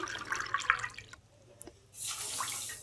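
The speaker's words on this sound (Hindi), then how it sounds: "अब इसमें दो कप हम पानी के ऐड कर देंगे" Water from a cup poured into a pan of sugar to make syrup, first light splashes and trickles, then a brief pause before a steadier, brighter pouring rush near the end.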